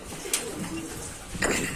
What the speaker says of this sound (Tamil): இன்னும் நிறையா புறாக்கள் மேலே நிற்கிது